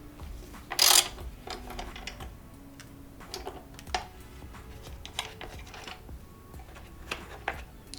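Ratchet loosening 12mm screws on a 2024 Honda CBR 650 R motorcycle, giving soft irregular ticking clicks close by, with one sharp louder snap near the start and no talking.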